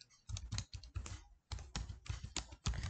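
Typing on a computer keyboard while writing text into a Microsoft PowerPoint slide, a close, steady clatter of key presses in quick bursts with a brief pause midway and no talking.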